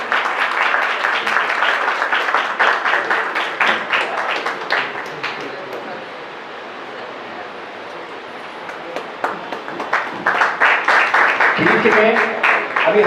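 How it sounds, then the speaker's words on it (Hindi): An audience at a short-film premiere launch event in Shahdol claps to welcome a guest, with dense, steady applause throughout, dipping slightly midway and swelling again near the end under an amplified voice. "तालियों से स्वागत करिए"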